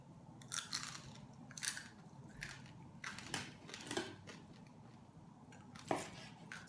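Close, crisp crunching bites of pork belly lechon recur every second or so, crackly and loud against quiet, with no talking.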